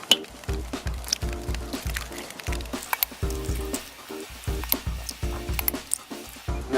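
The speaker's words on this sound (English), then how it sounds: "You can go ahead and start adding the eggs to the foil." Eggs are poured onto foil on a grill and sizzle, with a steady crackling fry and repeated soft scraping or stirring.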